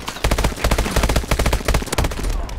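Rapid bursts of automatic gunfire from the IMR rifle in Call of Duty Advanced Warfare multiplayer, a loud close string of shots with brief gaps between bursts.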